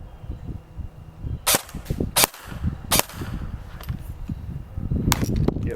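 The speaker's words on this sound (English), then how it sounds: "We're going to shoot these metal plates down here. First in semi." A Barra 400E Gen 2 electric BB gun fires in semi-automatic at metal plates, with four or five sharp, loud, separate cracks spaced irregularly over low background rumble and handling noise.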